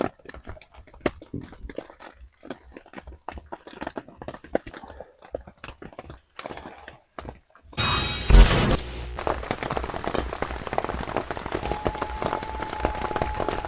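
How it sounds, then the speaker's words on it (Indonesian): Rain patters steadily on a tent, quieter at first, then a louder burst of drumming and rustling as the downpour grows heavier. "Masih hujan bang."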